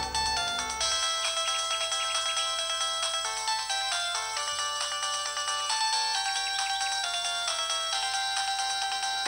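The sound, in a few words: phone ringtone ringing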